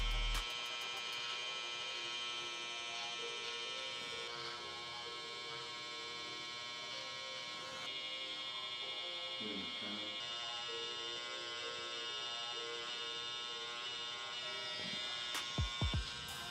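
An electric hair trimmer buzzes steadily and close up while a barber sets a hard line across a client's forehead, a constant hum running throughout with a few clicks near the end.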